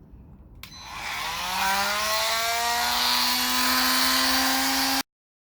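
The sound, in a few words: Milwaukee M12 multi tool cutting with stock blade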